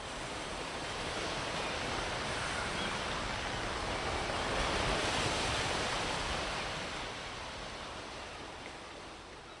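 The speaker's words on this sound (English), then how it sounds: "Send in the waves." An ocean surf sound effect opens a sea-adventure tabletop game session as a continuous broadband wash of waves that swells slightly toward the middle and then eases off, with no speech.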